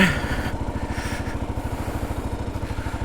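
A Kawasaki KLR650 with fairing creeps slowly down a dry off-road slope, its single-cylinder engine thumping in a steady, rapid low pulse, close and continuous throughout.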